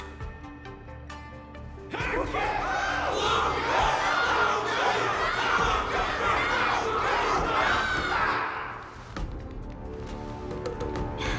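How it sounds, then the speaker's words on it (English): A large crowd cheers and roars in the Honkai: Star Rail video game, a loud sustained swell of shouting voices that rises abruptly, holds for several seconds, then falls away. "Everyone's cheering for you, Luca!"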